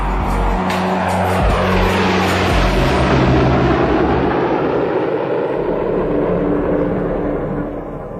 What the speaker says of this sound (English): two B-2 stealth bombers are about to penetrate enemy airspace for the first time